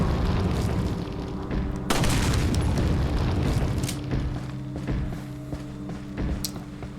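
Heavy booming gunshots ring out in Resident Evil 4, a loud blast near the start of the second second followed by rumbling echoes and scattered thuds over a dense low background.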